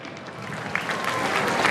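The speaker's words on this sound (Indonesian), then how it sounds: "boleh kita beri tepuk tangan sekali lagi" An audience at the flag-lowering ceremony at Istana Merdeka claps for the troops, a continuous, even wash of applause from a large gathering, moderately loud and unbroken, with no voices on top.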